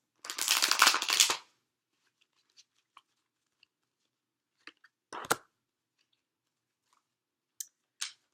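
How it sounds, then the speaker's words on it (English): A deck of tarot cards is shuffled in one quick riffling burst at the start, followed by scattered faint clicks and taps of cards being handled in an otherwise quiet room. "So let's get some clarifying cards."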